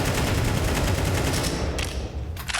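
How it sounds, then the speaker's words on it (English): Rapid AK rifle fire in a professional Counter-Strike match between Falcons and Eternal Fire, a dense continuous burst of shots with no talk in the clip. "The AK sounds off Magisk there"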